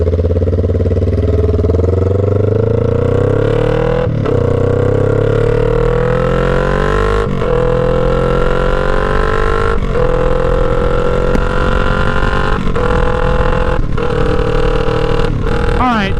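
A 2009 Kawasaki Ninja 500 EX500 motorcycle accelerates hard through several gears, loud and close, its engine note climbing steadily with brief dips at each shift.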